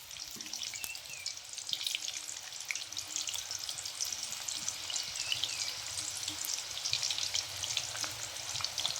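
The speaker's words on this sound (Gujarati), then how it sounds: "બીજી ડિઝાઇન તળી લઈએ।" Raw banana wafers deep-fry in hot oil with a continuous bright sizzle and crackle, steady and close, with small bubbling pops throughout and no talking.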